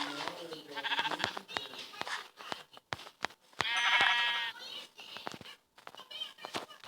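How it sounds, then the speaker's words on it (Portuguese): Sheep bleating in a survival video game, several wavering calls with one long loud bleat in the middle, set among clicks and game sounds while a person talks over it. "Agora eu vou matar uma ovelha ali."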